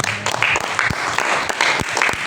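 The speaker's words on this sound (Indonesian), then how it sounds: "Tepuk tangan buat Tuhan." Congregation applauding at an Indonesian church prayer and fasting service: dense, steady hand clapping from a crowd, fairly loud and continuous throughout, with a brief voice or cheer mixed in.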